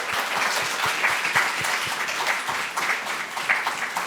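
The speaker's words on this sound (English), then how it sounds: "let's give them a round of applause, please" Audience applause after a panel discussion on ethics, identity, XR and AI, moderate and steady with individual claps standing out, sustained throughout.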